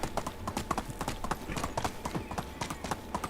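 Horse hooves clip-clop at a steady trot along a road in the medieval game Medieval Dynasty, a close, rhythmic run of hoofbeats with faint game ambience.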